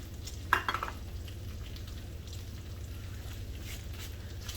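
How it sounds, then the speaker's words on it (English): Mushrooms and bacon sizzle steadily in a pan, with a brief clatter of stirring near the start, then a continuous low frying hiss. "So I've been stirring my mushrooms and the bacon together"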